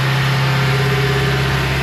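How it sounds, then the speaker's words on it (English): A BMW M5 engine runs at steady high revs under automatic warm-up load, a loud continuous drone with a sustained hum and no pauses. "it puts some load on the engine automatically. That's why it's revving, as you can hear."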